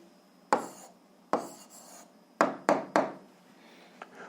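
An algebra answer is written down by hand, producing a few distinct short scratching strokes with brief pauses between them, close and fairly quiet.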